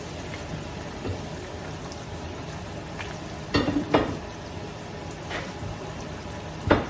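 Salmon being sautéed in a pan, a steady oily sizzle with a few louder clacks and scrapes of a utensil stirring against the pan.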